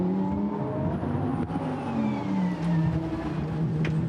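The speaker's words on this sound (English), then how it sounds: "the AM battles rage on behind as the cars now come through Blanchimont" Lamborghini Super Trofeo race cars pass through the Blanchimont corner at Spa, their engines a sustained loud roar with shifting pitch as several cars sweep by in close succession.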